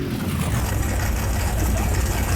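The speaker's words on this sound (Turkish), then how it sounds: "Ya çok sesli gürültülü çalışıyor araba." A car engine in a car mechanic simulator game runs loudly and continuously with a deep, rough rumble, steady throughout and close up.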